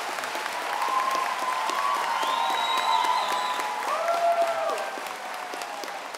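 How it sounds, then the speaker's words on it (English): An audience applauds steadily at a graduation ceremony, a dense sustained clapping from a large crowd with faint cheers or voices rising above it before it tapers off. "give him a round of applause"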